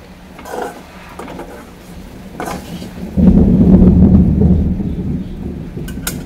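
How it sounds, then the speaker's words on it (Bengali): Thunder rolls in a rainstorm with lightning, a low, heavy rumble that swells midway and lingers over faint background patter, close and fairly loud, with no voices. "ইয়ে করছে, বিদ্যুৎ চমকাচ্ছে"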